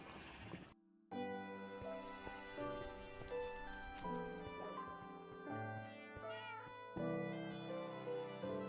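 Minecraft cat meowing inside the game, heard against a steady backdrop of layered, sustained background music that runs nearly the whole time and largely masks any single call.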